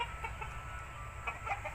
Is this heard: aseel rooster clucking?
yes